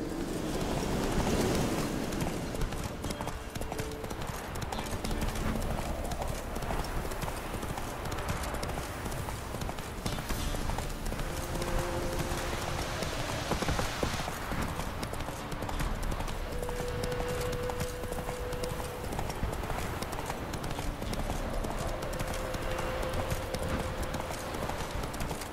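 Roach, Geralt's horse in The Witcher 3, trots with steady, continuous clip-clopping hooves over a soft bed of wind and outdoor ambience for the whole stretch.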